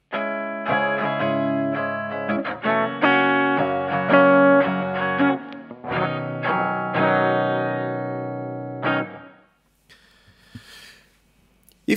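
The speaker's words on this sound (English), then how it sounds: "You have to angle the brush a little and then you get a usable sound." Guitar strings brushed with a finger-held brush held at an angle, giving a sustained, ringing, effects-laden tone for about nine seconds that stops abruptly, followed by faint scraping near the end.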